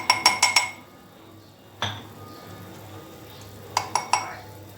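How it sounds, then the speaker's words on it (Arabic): Bread dough for homemade baguette being mixed with flour in a bowl, with several quick clinks of a utensil against the bowl at the start, one knock in the middle and another cluster near the end, close and fairly quiet. "ونخلطوا الخليط مليح"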